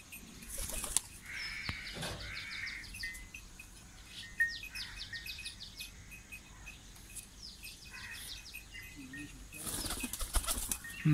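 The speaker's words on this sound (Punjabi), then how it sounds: "ਕਾਲੀ ਕਬੂਤਰੀ" Racing pigeons, including a black hen, fly at a pigeon-flying contest, with soft bursts of wing flapping near the start and end amid crickets and outdoor birdsong, at moderate level with no talk.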